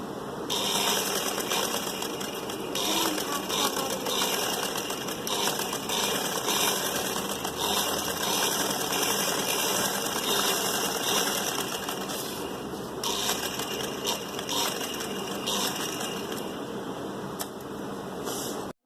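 A sewing machine runs steadily while stitching lace onto a suit, a continuous close mechanical whir with a fast rattling rhythm that holds for the whole stretch, dipping briefly once midway, with no voices.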